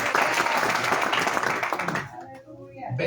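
Church congregation applauding together, a dense burst of clapping that fills the room before breaking off sharply, leaving quieter scattered sounds.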